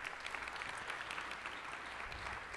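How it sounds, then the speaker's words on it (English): A parent meeting audience claps in a dense, steady round of applause that holds evenly throughout, fairly distant and soft in level, with no talking over it. "Let's give them another big round of applause."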